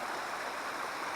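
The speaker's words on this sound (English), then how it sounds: "this is the Little Carp River." The Little Carp River flows steadily, a constant broadband rush of moving water heard close by with no voices.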